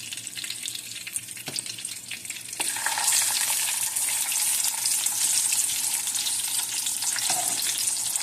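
White catfish fries in a pan on the Eastern Shore, a loud, close hiss of spitting oil that thickens abruptly midway into a dense, continuous sizzle with no talking over it.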